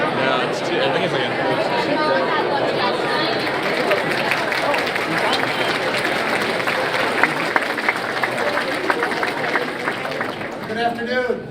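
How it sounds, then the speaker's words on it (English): Audience applause greeting a speaker: steady, dense clapping from a crowd with some cheering and chatter mixed in, lasting over ten seconds at full strength. "I'm usually not greeted with applause like that"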